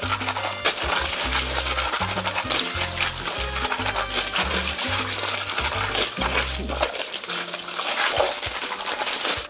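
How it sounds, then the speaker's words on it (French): Mussels being rinsed and scrubbed in fresh water, with splashing, sloshing water and shells clattering and rubbing together in a steady, busy rhythm nearby. "je vais les rincer de nouveau en les frottant rapidement à l'eau fraîche et claire"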